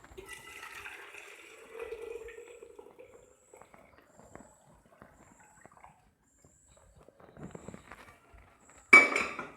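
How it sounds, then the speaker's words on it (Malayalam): Chicken soup is poured and strained into a vessel. Liquid runs and splashes for a few seconds, then a quieter stretch of faint clinks follows, and a loud closing clatter of metal comes at the end. "ചിക്കൻ്റെ പീസെല്ലാം മാറ്റിക്കഴിഞ്ഞ് നമുക്കിതൊന്ന് ഒരു പാത്രത്തിലേക്ക് അരിച്ചെടുക്കാം."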